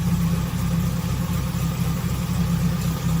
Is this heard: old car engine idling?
yes